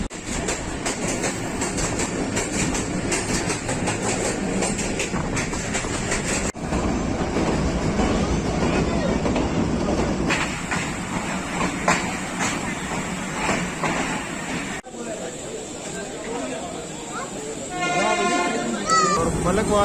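The Millat Express passenger train runs along Main Line 1 in Pakistan near Dinga and Malakwal Junction, with a steady loud rumble and rhythmic wheel clatter. A horn-like tone rises near the end.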